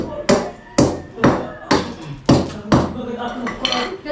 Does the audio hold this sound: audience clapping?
no